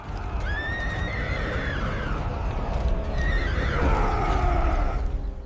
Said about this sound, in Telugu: గుర్రాలు బెదిరిపోయి భటులను కింద పడేశాయి